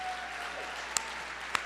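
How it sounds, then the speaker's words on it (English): Applause from an audience at a grand opening ceremony for a community campus, a soft, steady patter of clapping heard from a distance, with two brief sharp knocks standing out. "I want to ask you to give Devon a big round of applause"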